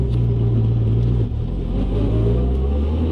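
A supercharged 800 hp Corvette ZR1 rumbles loudly and steadily nearby, its deep exhaust roar holding a constant low drone with a slight dip partway through.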